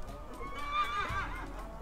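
A horse whinnies in a single drawn-out call with a few hoof clip-clops, heard ahead of a ride to practise for a Naadam Festival horse race; close and moderately loud with no talk.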